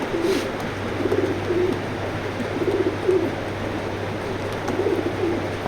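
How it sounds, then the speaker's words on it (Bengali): Pigeons coo in a pigeon loft, several soft low rolling coos repeating in short bursts over a steady low hum, fairly close, with no talking. "ডিমে বসা ছিল কবুতর দুইটা"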